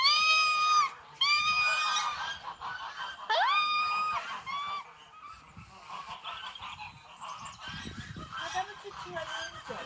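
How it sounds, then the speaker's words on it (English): Geese honking loudly at close range in a series of harsh nasal calls, bunched in the first half and then giving way to quieter shuffling and faint calls, with a person speaking softly. "You're not joining in with the geese."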